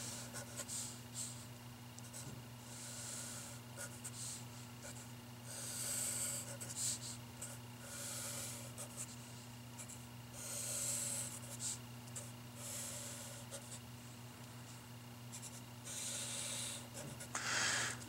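A pen or marker scratches out rough sketches of four algebra graphs during a college math lesson, with a steady stream of short, dry strokes and scrapes over a constant low electrical hum and no voices.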